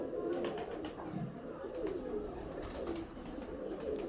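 Soft pigeon cooing in low, rounded bursts repeats through a steady background hum, with a few faint bird chirps overhead.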